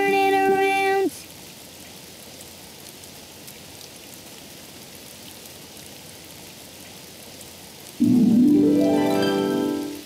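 Steady, soft hiss of cartoon rain falling outside runs through the middle, framed by short bright musical stings at the start and near the end.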